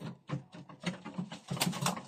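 Pigeons cooing softly nearby, a few low throaty coos in quick succession with light rustling, no talk.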